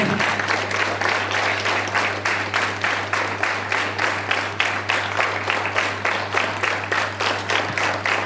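Students lined up at attention keep clapping in unison, an even rhythmic patter of many hands with regular pulses, fairly close, over a steady low hum.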